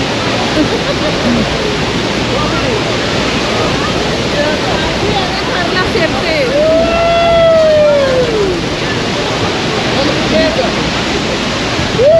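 Niagara Falls roars in a loud, constant broadband rush of falling water and heavy spray, steady and close throughout, with a brief whistling tone partway through.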